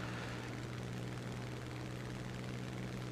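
The Typhoon Mark 1 fighter-bomber's piston engine drones in the War Thunder video game. The low, rumbling hum is steady and constant throughout, with no voices over it.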